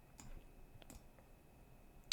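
A short terminal command typed on a computer keyboard, heard as a handful of faint, irregularly spaced key clicks over quiet room tone, with no voices.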